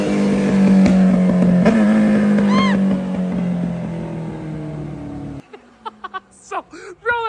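An old, tired motorcycle engine runs with a loud, rough idle and revving that fades, then it drops out to brief sputters and short blips near the end; voices talk over parts of it.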